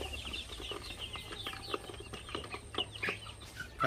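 Hens and a rooster cluck steadily nearby, a busy overlapping chorus of short clucks over a low background hum.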